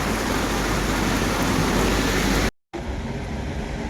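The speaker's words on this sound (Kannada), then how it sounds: "ಮಳೆ ತುಂಬ ಜೋರಾಗೆ ಬಂತು" Dense, steady roar of heavy rain at Bannerghatta filling the whole clip, with a brief silent gap near the end before the downpour resumes.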